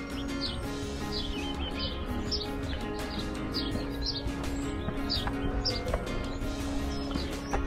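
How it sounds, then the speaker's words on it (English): Birds chirp and call in repeated bright bursts over a steady rural background in the Picos de Europa mountains, with faint cowbells from grazing cows clinking intermittently. No one speaks. "You hear the birds and the cows."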